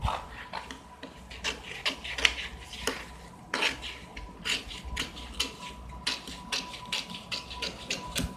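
Scissors cutting a paper pattern for a katori blouse, front side and neckline, heard as repeated crisp snips and rustles at close range, spaced irregularly with no talking.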